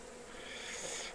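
A swarm of honey bees lodged under a house roof in England buzzes in a faint, continuous drone.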